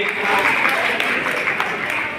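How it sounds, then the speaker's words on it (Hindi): Audience applause at the Pragyaratna Award 2026 ceremony held by the Nandlal Joshi Charitable Foundation, a dense, steady wash of clapping filling the hall at an even level throughout. "थोड़ी थोड़ी सी तालियां बजा दीजिए आप"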